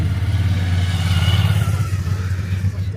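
A motorcycle arrives at an apartment gate in Varenna on Lake Como, its engine a loud, steady low rumble with rising revs that holds close by for several seconds before easing slightly.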